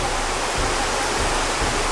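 Steady broadband rush of the Alas River flowing in a forested mountain setting, a continuous loud roar with no pauses and no talking.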